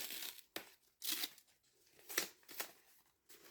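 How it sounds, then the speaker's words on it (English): Adhesive tape peeled off a paper-wrapped book in short, close tearing bursts, several crisp rips separated by quiet pauses with light paper crinkling. "Just taking the tape off back here."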